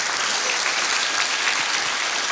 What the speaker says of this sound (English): So a bit of a round of applause for all of that